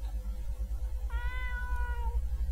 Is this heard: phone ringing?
no